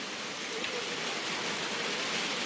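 Steady broadband hiss of heavy rain falling in a town setting in the Philippines, a dense continuous wash with no breaks and no voices.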